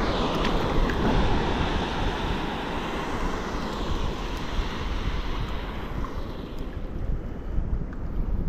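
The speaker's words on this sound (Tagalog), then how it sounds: "Lalaki ng alon dito ah." Large ocean waves break on a shore in a dense, continuous roar of surf mixed with gusting wind buffeting the microphone, loud and near with no talking.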